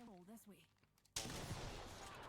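A Sentinel sniper rifle in Apex Legends fires one sudden loud shot after a short voice, the blast ringing on into a sustained noisy tail.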